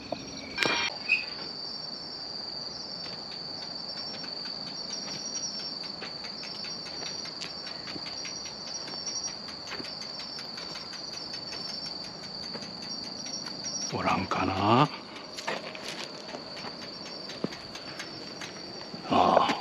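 Tsuzuresase crickets chirp in roadside grass in a continuous high-pitched trill that runs unbroken throughout. A brief louder rushing noise passes near the end.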